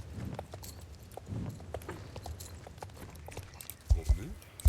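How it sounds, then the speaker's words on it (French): Video game pony walking, soft clip-clop hoof steps under a game soundtrack and effects, with a few louder thumps near the end. "Allez, poney, on avance."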